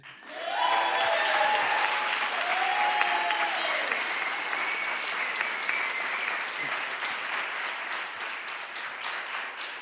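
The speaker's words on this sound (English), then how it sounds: "Please have a round of applause" A library audience at a queer anti-militarism townhall breaks into sustained applause for the panel speakers, the clapping rising quickly and holding as a dense, even wash that slowly thins toward the end.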